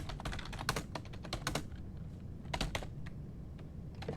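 Fingers type on a computer keyboard in quick clattering bursts of keystrokes with brief gaps, close up over a steady low background hum, with no voices.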